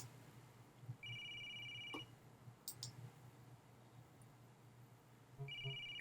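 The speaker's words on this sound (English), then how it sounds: "It's her phone." A phone rings in the Clam Man video game, sounding as two bursts of an electronic ring tone over a low steady hum, with a few soft clicks and ticks between them, quiet and close.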